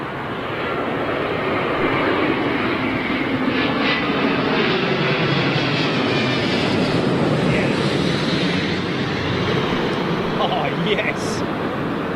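Aircraft on a runway at London Heathrow, a broad, steady jet engine roar that holds at an even level throughout, with no voices over it.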